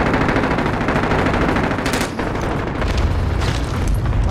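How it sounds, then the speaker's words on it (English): Cluster strike explosions and sustained gunfire in the Call of Duty: Modern Warfare video game, a dense, continuous barrage of rapid shots and booming blasts filling the whole stretch at loud, close range. "Enemy cluster strike incoming."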